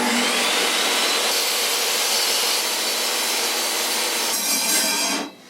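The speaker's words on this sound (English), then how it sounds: "And then I make this cut straight with the circular saw." A circular saw rips through wood for a boat helm console, a loud close continuous whine and rasp that holds steady for about five seconds before the blade leaves the cut and the motor winds down abruptly.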